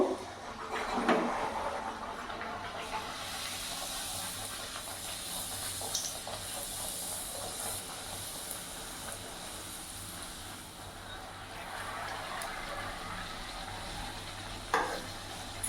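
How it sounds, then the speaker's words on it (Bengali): Palak puris fry one by one in hot oil, a steady close sizzle and hiss with occasional stirring and soft clinks, moderately quiet and continuous throughout. "এবার আমি এক একটা করে তেলে ভেজে নেব"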